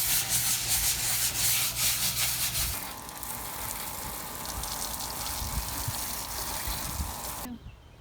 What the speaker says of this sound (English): I'm just going to spend a little time out here scrubbing this up